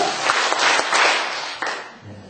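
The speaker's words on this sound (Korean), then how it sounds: "박수 3번 시작" A church congregation claps together during a prayer meeting, a short burst of dense applause from many hands in a hall, fading after about two seconds.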